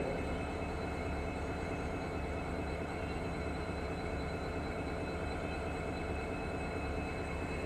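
A WDP4D diesel locomotive stands idling at a train on a platform at Yesvantpur railway station, a steady, loud, continuous engine drone and rumble with no talk.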